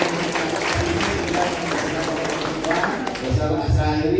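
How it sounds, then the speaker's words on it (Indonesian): An audience at an annual cooperative members' meeting in Solo applauds steadily. The clapping is dense and continuous for the whole span, with muffled voices underneath. "Tepuk tangan untuk kita semua"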